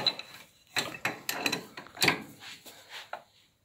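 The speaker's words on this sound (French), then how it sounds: "On prend la clé. Et à l'inverse du démontage, on serre" A chuck key tightening the chuck on a Hermes Mentor metal lathe, giving a series of close metallic clunks and ratcheting clicks in uneven bursts, with no voice over them.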